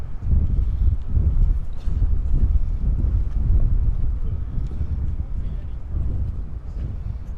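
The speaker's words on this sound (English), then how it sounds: "It's really windy." Strong wind buffets the microphone in a steady low rumble at RAF Lakenheath airbase, with a voice speaking over the gusts.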